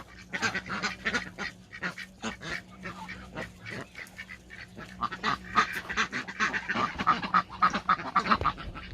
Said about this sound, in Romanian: Și aceea cred că se face rața acolo care bea aia moțată.